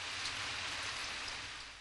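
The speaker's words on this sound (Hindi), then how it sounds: "रायमा देखो, बारिश हो रही है।" Cartoon rain sound effect: a steady, even hiss of falling rain, fairly quiet and continuous throughout, with no voices.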